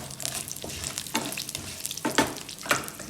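Green chillies and cashews sauté in an oil-filled pan for carrot rice, giving a steady close sizzle and several louder bursts of spattering as the pan is stirred, with no voices.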